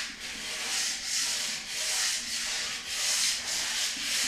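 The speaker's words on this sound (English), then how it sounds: "I'm just trying to level it out a little bit. And you can see the sandpaper is clogging up, which isn't good." Sandpaper rubbed by hand over spray-painted primer, close and steady, with rhythmic back-and-forth strokes of about one per second making a raspy hiss, no voices.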